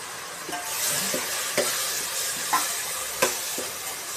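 Kashmiri chili powder fries with tomato for a tomato pickle, making a steady hissing sizzle punctuated by several distinct spoon scrapes against the pan, close and without speech.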